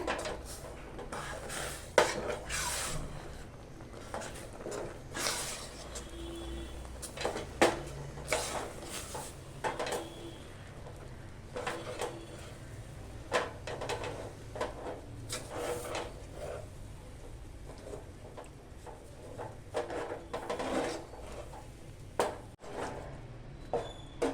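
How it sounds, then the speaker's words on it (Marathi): Rice flour is stirred into boiling water in a pot with a steady run of scraping, clinking and knocking of a spoon against the vessel, a busy kitchen clatter throughout with no talking. "पीठ आहे ना व्यवस्थित असं मिक्स करून घेऊया"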